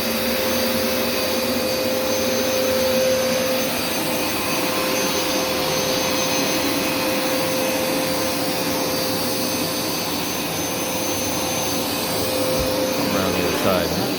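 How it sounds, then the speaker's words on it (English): A Hoover Smartwash carpet extractor washing and sucking up carpet gives a loud, steady whine with a constant high tone that runs unbroken throughout, and a voice can be heard beneath it. "So you go push it forward and it puts it down, and then you go pull it backward and then it sucks it back up."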